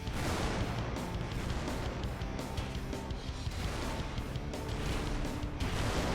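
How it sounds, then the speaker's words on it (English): A large tank battle in Total Tank Simulator with Tiger tanks advancing: explosions and artillery fire merge into a continuous, heavy rumbling barrage with overlapping crashes and bursts, loud and unbroken from start to finish. "There's explosions everywhere going off"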